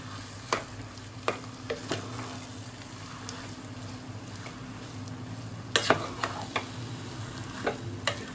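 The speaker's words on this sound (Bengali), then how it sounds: "আলুটাকে এবারে কিমার সাথে সুন্দর করে মিশিয়ে নিয়েছি, নিয়ে এবারে কিছুক্ষণ সময় কষবো আর এটাকে একদম শুকনো করে নেবো।" Potatoes and mutton mince frying dry in a pan, a steady low sizzle with repeated sharp scraping clicks of a spatula stirring, close and fairly quiet, no talking.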